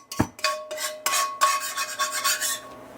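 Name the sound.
spatula scraping bits off cast iron pan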